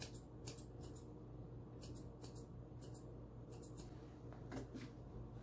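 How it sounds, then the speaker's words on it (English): Close, faint scissors snip in quick, repeated bursts while trimming the fur of a standard poodle puppy. "Just gonna trim the edges here. Or the tips."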